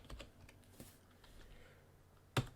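Quiet, scattered clicks of typing on a computer keyboard while coding a programming assignment, a few soft keystrokes spread out with one sharper tap near the end.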